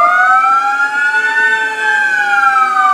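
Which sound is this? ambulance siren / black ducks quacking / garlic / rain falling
ambulance siren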